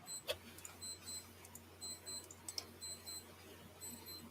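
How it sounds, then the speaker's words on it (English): A faint electronic alarm beeping in short repeated bursts, steady and regular, with a low background hum and no talking. "Your alarm's going off, Gary."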